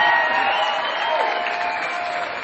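A crowd at a kickboxing title bout cheers and applauds steadily and loudly for two fighters, a dense, sustained wash of clapping and shouting that holds for the whole stretch.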